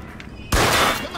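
A single loud, close gunshot with a sharp crack and short tail in Mafia II, following a brief quieter stretch.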